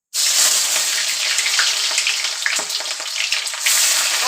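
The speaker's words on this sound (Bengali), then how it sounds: "আমি তেলের মধ্যে একটু পেঁয়াজ কুচি দিয়ে দেব" Chopped onion dropped into hot oil bursts into a loud, close sizzle that starts abruptly and holds as a bright, steady hiss with spattering crackles, no voices heard.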